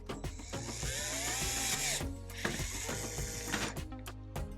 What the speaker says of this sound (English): I basically can just drill right out the back of it